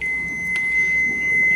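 A multimeter's continuity test gives a steady, high, piercing electronic tone that holds unbroken for over a second, loud and close over a faint hum, while a refrigerator is checked.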